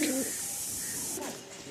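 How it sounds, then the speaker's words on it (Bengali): Pigeons in a breeding loft coo softly in low, rolling calls, a few close murmurs over a steady airy hiss of the surroundings. "এই যে অনেক পায়রা আছে দাদার এখানটায়"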